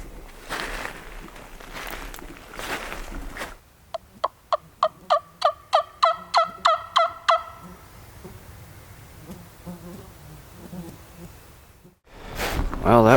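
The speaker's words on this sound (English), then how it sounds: "I heard this bird start gobbling" A wild turkey on a ridge top in Alabama gobbles in a rapid burst of about a dozen sharp repeated notes, moderately near, with rustling movement before and after.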